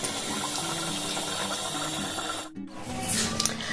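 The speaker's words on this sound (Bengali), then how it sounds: "চলুন এবার একটা বাটিতে আমি রেখে দিই, ঢেলে নিই।" Katla fish curry, cooked with potatoes in an oily gravy, is poured into a bowl, a faint, soft splashing pour broken by a brief pause before a final trickle.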